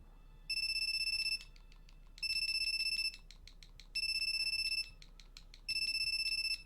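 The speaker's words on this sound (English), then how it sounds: "let's answer the phone" A phone in the video game The Calling rings in four evenly spaced bursts, each a bright, shrill electronic trill, loud and close with short pauses of near silence between them.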